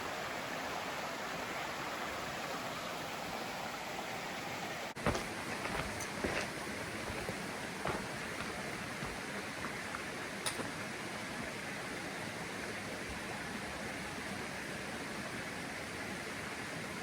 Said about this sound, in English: You can see off in the distance there's some falls.